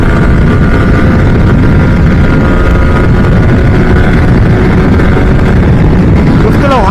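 A Yamaha R15 V3 motorcycle pulls hard in fifth gear at high speed, its engine a loud, unbroken drone buried in heavy wind roar from start to finish.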